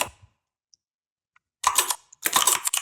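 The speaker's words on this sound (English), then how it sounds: "let me type it here" Fingers type on a computer keyboard in two quick bursts of close, crisp key clicks, separated by a short pause of near silence.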